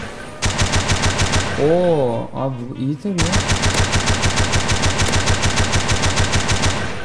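A CS:GO gun mod fires in Minecraft, giving rapid automatic bursts of close, loud gunshots in an even rhythm. Someone talks briefly during a pause in the firing.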